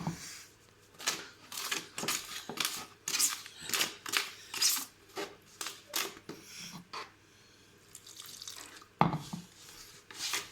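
Water pours from a tap in bursts during a homemade fireplace build, several short runs of splashing flow with quiet gaps between them, fairly faint and close, with little talk.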